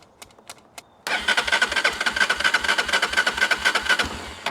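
An ATV engine that has not run in six years cranks without choke: a few faint clicks, then a loud, close, fast rhythmic cranking chug that keeps turning over for about three seconds without catching.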